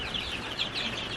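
Chickens clucking softly in a homestead coop, a faint, continuous cluster of overlapping calls at a moderate distance, with no talking.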